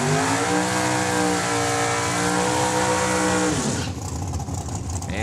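A drag racing dragster at Saskatchewan International Raceway idling and backing up, a loud close engine drone with steady harmonic tones that drops away abruptly near the end, leaving quieter rough engine noise.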